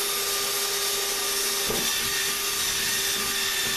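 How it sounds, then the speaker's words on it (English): Electric drill boring a hole in the top of a homemade pond bubble aerator, a loud steady whine that runs throughout with a brief bump midway. "we're just simply going to take our drill and drill a nice hole"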